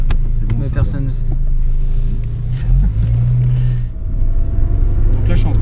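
Saab 900 Turbo engine pulling in third gear of a five-speed, a steady low rumble swelling as the throttle opens, heard from inside the car with a voice talking over it.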